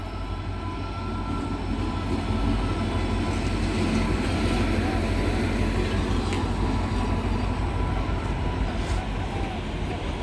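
A WAP-7 electric locomotive hauling a Lalgola passenger train rumbles past Berhampore Court railway station continuously, with steady heavy rolling noise and faint clattering of wheels on rails, loud and close throughout.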